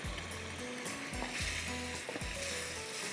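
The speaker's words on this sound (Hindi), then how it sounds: "इसको मैं भून रही हूँ" Cauliflower and potatoes fry in a pan for ajwain aloo mirch, with a continuous soft sizzle and repeated spoon scrapes and stirring strokes in a steady rhythm.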